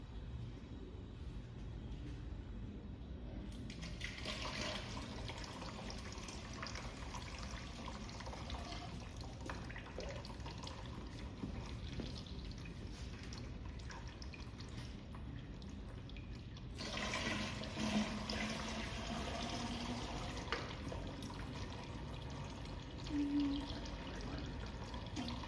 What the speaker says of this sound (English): I'm going to put in about double the amount of water in this soil column as I do in this one.